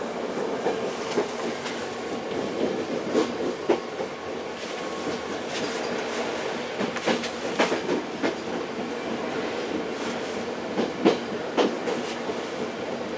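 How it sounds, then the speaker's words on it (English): An Irish Rail materials train, locomotive 072, rumbles past steadily, with rhythmic clickety-clack of wheels over rail joints and occasional metallic squeals, continuous and moderately loud. "There's a materials train"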